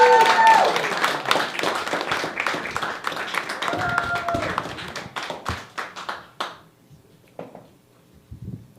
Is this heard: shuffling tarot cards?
no